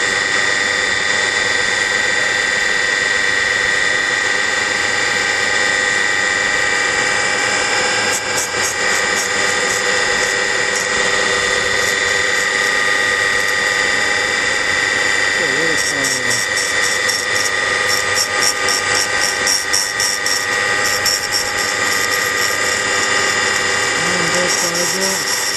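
A valve grinding machine cuts an engine valve from a 1994 Geo Metro, a steady high-pitched whine and hum running continuously with intermittent grinding bursts, close and loud.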